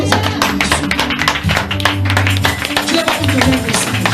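Rhythmic clapping from a congregation at a church gathering, quick and close, mixed with music and raised voices in a lively, crowded room.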